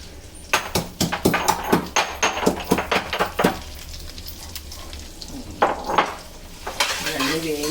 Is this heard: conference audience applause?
no